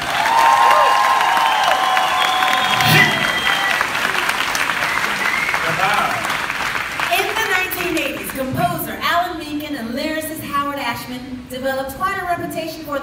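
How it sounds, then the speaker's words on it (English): A crowd applauds and cheers for a concert band at an outdoor Broadway concert at Epcot's arts festival, with loud clapping that carries on while a voice begins talking over it partway through. "how about another huge round of applause for this fantastic band?"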